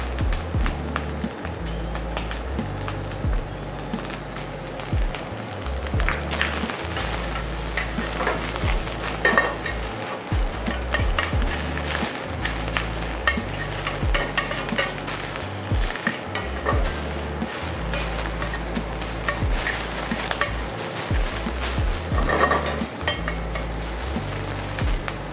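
Meat sizzles and is stirred in a hot pan, with bean sprouts to follow. A steady, close frying hiss runs throughout, broken by frequent scraping and tapping from the utensil against the pan. No one speaks.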